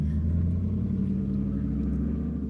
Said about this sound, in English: That guy has a very loud car too.